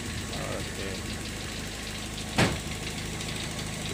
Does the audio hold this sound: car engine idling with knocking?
yes